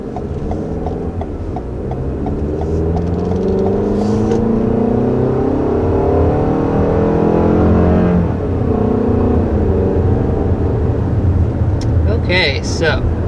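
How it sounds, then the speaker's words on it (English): A 2021 Toyota RAV4 with a 2.5-liter four-cylinder engine accelerates from a stop, engine note rising steadily through a shift and continuing as a strong in-cabin drone, with a person speaking briefly near the end. "Okay, so first taking off in this 2021 RAV4."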